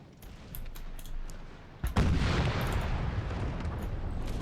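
Artillery and musket fire from a battle in the video game Empire: Total War: scattered distant shots, then a sharp boom followed by a sustained, rumbling roll of volley fire.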